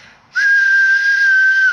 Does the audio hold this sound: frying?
no